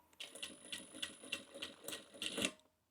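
A sewing machine runs in quick bursts, stitching and backstitching around a fabric bag, with a regular mechanical clatter, close up and alone.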